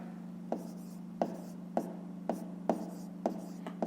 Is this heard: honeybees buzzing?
no